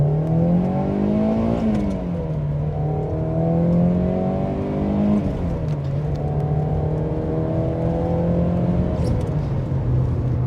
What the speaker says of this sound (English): It's a really sweet little engine